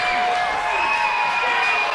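Wrestling crowd at an NWA New York show cheering for Jimmy "Jam" Olsen in his match against Orange Cassidy, a steady broad roar of many voices filling the hall without breaks.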